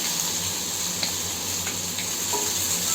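Onion, ginger and garlic paste hits a hot pan with curry leaves for a Tamil sundal gravy. A steady close sizzle runs throughout, with a few faint scraping stirs and no talking.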